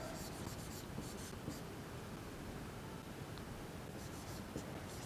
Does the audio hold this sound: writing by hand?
yes